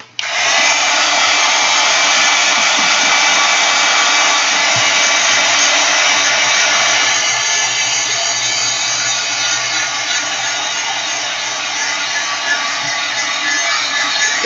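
A hand-held hair dryer runs continuously at close range, a loud, steady whooshing roar while a napkin art journal page is dried.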